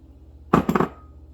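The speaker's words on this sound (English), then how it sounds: "I'll throw the rice in." Rice poured into a pot of spiced chicken lands in one short, close clattering burst lasting under half a second.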